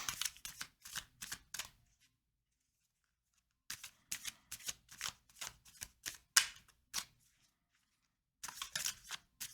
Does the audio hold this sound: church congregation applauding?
no